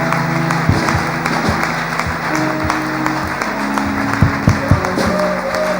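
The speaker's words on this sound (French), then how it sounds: "J'aimerais que nous acclamions encore pour la parole qui vient de passer tout à l'heure." Applause at a church gathering, a steady wash of clapping with a few sharper claps, while sustained keyboard or organ tones play underneath.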